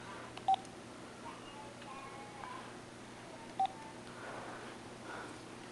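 Two short, bright telephone keypad tones dialed on a phone a few seconds apart, over a quiet room background with faint household sounds.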